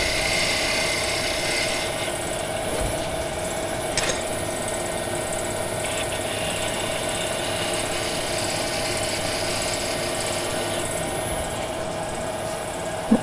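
A homemade quarter-inch high-speed steel skew cuts wood on a lathe while turning a miniature birdhouse, giving a continuous, even rasping whir with a steady motor hum and no talk throughout.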